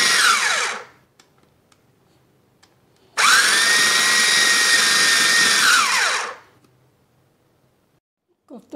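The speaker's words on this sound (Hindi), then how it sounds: "अब हम इसको ग्राइंडर में डाल के ग्राइंड कर लेते हैं।" Kitchen grinder whirring loud and steady as it grinds soaked bread for chicken kofta, one short burst followed after a pause by a longer run of about three seconds that winds down to silence.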